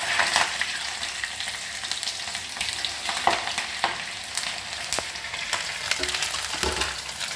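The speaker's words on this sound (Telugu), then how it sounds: "మళ్ళీ ఆయిల్లో ఫ్రై చేయడం అండి" Cut bajji, Rayalaseema chili fritters, fry in hot oil with a loud, constant sizzle and crackle, dotted with occasional sharp pops and ladle scrapes.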